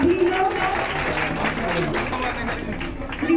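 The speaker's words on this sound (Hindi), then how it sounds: "सभी ग्रामीण जनों से एक बार जोरदार तालियां।" Villagers at a state ceremony for a former chief minister's 111th birth anniversary applaud loudly as a steady, dense wash of clapping, with a voice speaking over it throughout.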